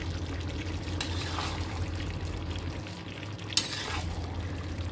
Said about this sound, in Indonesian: Diaduk-aduk ya sampai tercampur merata kelapa parutnya, kelapa parut sangrainya